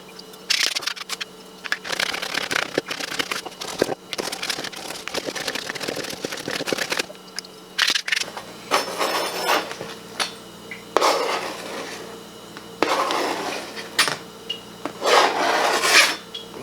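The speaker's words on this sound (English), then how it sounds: "Really just trying to make sure this is all very finely minced." A knife chops and minces chili oil ingredients on a cutting board, giving rapid, dense scraping and tapping strokes in bursts with short pauses, close and fairly loud.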